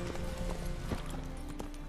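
Hooves of Roach, a horse in the video game The Witcher 3, clip-clop steadily at a gallop, close and continuous, with faint game ambience and a brief snort behind them.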